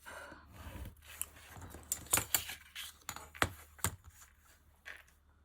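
A small craft tool scores fold lines into paper for a pop-up unicorn scrapbook album, making a quick series of quiet, close, sharp scratching strokes with short pauses between them.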